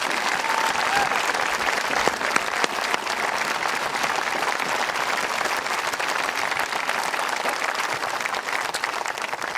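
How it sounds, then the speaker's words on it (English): Sustained, dense applause from a large audience at a high school commencement ceremony for the class of 2023, steady and full for the whole stretch with no pause. "Please join me in one more round of applause for these students."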